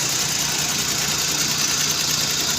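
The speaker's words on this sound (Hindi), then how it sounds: "लेकिन इंजन कांस्टेंट स्पीड पे इसका जो है ना इस वक्त चल रहा है।" A Suzuki Cultus car engine with a weak-current coil and inefficient fuel burning runs at a steady constant speed, a continuous, even mechanical drone heard up close with no talking.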